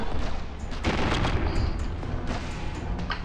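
Shotgun blasts ring out in the GoldenEye: Source multiplayer game on The Bunker map, a dense, loud barrage of overlapping booming shots and echoes running throughout without speech.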